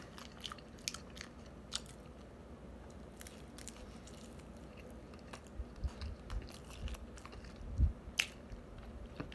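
A piece of pizza topped with marinara is bitten and chewed close to the mic, giving soft, irregular crunchy and squishy mouth noises with a faint background.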